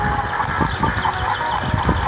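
Game chickens on a mobile-game poultry farm cluck in a short run of soft, repeated clucks over a steady synthetic background hum.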